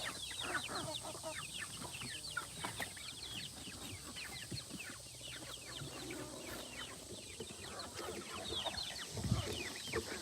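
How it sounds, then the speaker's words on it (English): A flock of young chickens cluck and chatter steadily, with a dense, busy stream of short calls close by on a farm, continuing without pause and with no talk over them. "Them little neck and neck chickens."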